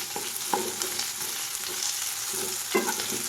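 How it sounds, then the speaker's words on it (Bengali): Onions frying in a pan with green chili, cumin and spice paste give a continuous sizzle, with soft stirring scrapes and a light clatter near the end. "ওই পেস্টটা দেবো, ওই পেঁয়াজটা ভাজা হয়ে যায় একটু ভালো করে"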